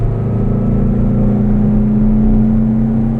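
A 1962 Porsche 356 B 2000 GS Carrera 2 engine drones loud and steady under acceleration, a continuous close-up mechanical roar with a slowly rising tone and no talking.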